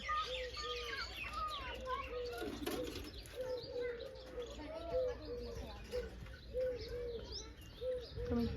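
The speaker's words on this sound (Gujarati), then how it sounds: "કબૂતર" Pigeons coo repeatedly in soft, low rolling phrases over an outdoor village background with chirps and nearby voices talking.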